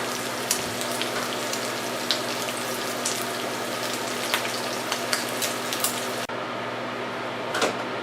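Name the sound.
onions and garlic sautéing in a pan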